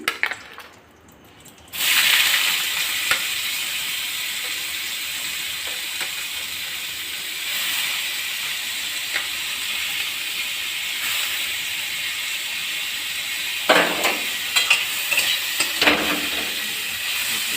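Carrots drop into chow mein frying in a hot wok, giving a loud, steady sizzle and hiss with stirring scrapes after a brief quieter moment at the start.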